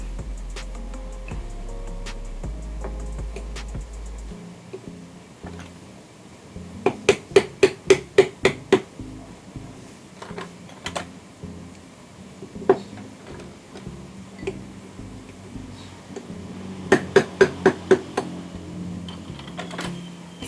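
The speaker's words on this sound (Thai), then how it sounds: "เดี๋ยวจะใช้ เหล็กส่งช่วย ตอกส่งเข้าไปนะครับ" Two rapid bursts of sharp metallic hammer blows driving a bearing into a Zenoah G4K gear head with a drift punch, several quick strikes each, with scattered single taps in between over a low background hum.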